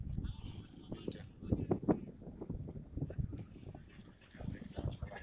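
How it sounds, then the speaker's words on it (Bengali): A police launch motors past on the Ganges while fishing nets are set, its rumbling engine mixed with steady wind buffeting and nearby voices talking. "দেখো পুলিশ লঞ্চ যাচ্ছে, এটা পুলিশ লঞ্চ বলে।"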